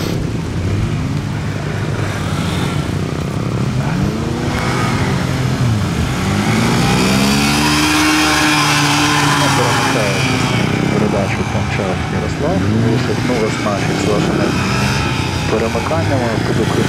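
Honda CBF125 motorcycle revving hard through gear changes during a timed gymkhana run, the engine note sweeping up and down repeatedly while passing close, loud and steady for the whole stretch.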